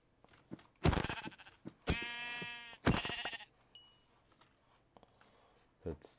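Sheep in the video game Minecraft bleat several times, loud and close, with short wavering cries spread across the stretch and quieter game sounds between them.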